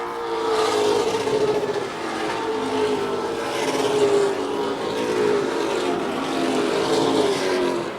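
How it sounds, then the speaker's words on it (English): Stock race cars lap Wiscasset Speedway, their engines a continuous loud roar with rising and falling tones as several cars sweep past in waves. "17 of the 26 cars still on the track, making laps."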